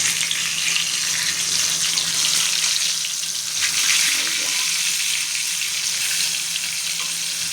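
Eggplant slices frying in hot oil, a loud, steady, dense sizzle that carries on unbroken from start to finish, with no talking over it.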